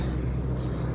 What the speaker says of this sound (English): Big truck coming.